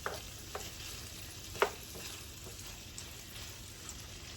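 Shrimp and noodles fry in a pan over heat set a little above medium, a low steady sizzle broken by a few sharp scrapes and taps as the food is stirred, with one louder clack near the middle.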